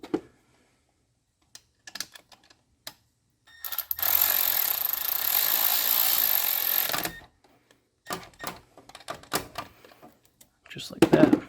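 A power tool runs in a continuous whirring burst for about three seconds while a bolt is tightened during an oil catch can install, with short clicks and knocks around it and someone talking now and then.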